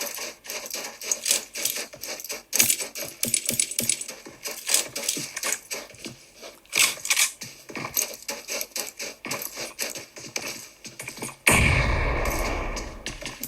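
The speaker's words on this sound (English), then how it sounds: "more grenades are being thrown as Team 2 continue to fight against Team number 10" Grenade blasts and gunfire in a PUBG battle royale match, a dense run of sharp cracking shots and bursts at varied distances, then a heavier, louder rumbling blast near the end.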